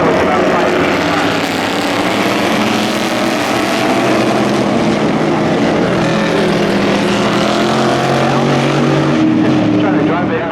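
Fiberglass-bodied race car at a Monterey motorsports event, its engine droning loud and steady as it accelerates toward 125 on the straightaway, with a voice talking over the roar throughout.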